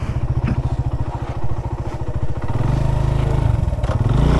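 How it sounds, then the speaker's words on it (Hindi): A motorcycle engine idles and putters loudly nearby at dusk beside a lake in Basho Valley, a rapid steady thump that rises into a fuller rev as the bike is parked. "इधर हम खड़ी करेंगे मोटरसाइकिल।"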